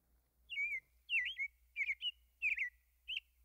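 A blackbird sings alone at dawn in a quiet setting, several short fluting phrases with brief pauses between them, clear and fairly close.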